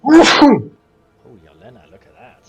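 A single loud, sharp sneeze bursts close to the microphone, then quiet speech follows after a brief pause.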